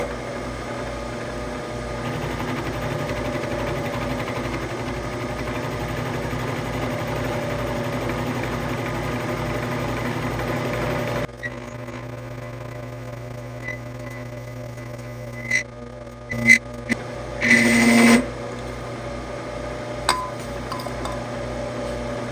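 A milling machine with a milling bit runs steadily with a constant motor hum and whine, then the tone drops away, leaving a quieter hum broken by a few sharp clinks and knocks.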